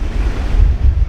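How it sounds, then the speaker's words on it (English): Ocean waves wash over a small area of coastal rock in a steady, loud rush, with gusty wind buffeting the microphone close by. "Water has once just come over this little kind of area of rock that I've really set myself up behind."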